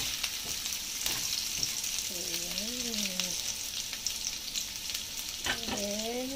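Mixed vegetables sautéing in a pan with a steady sizzle throughout and occasional stirring scrapes, while a voice is heard briefly twice in the background.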